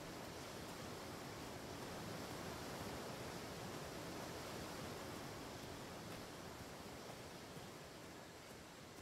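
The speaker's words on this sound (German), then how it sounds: "Hier höre ich das nächste Plätschern." Steady broadband water splashing and rushing in the video game Atlas, a constant even wash of noise at moderate level, with no speech over it.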